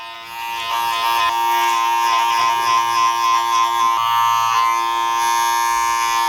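Electric hair clippers set to a 2.5 guard buzz steadily and close up while blending a short haircut, a continuous hum with slight shifts in pitch as they move through the hair.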